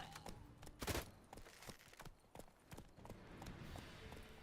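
Horse hooves clip-clop in The Witcher 3: Wild Hunt, a steady run of hoofbeats with a louder burst near the start, heard alone with no talk.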